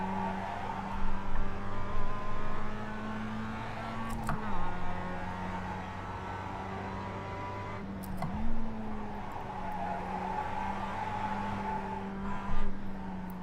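A Mazda race car on the Charlotte track in the iRacing simulator holds a steady engine drone that dips and climbs with gear changes. Brief tire scrubs come through as the car slides around corners.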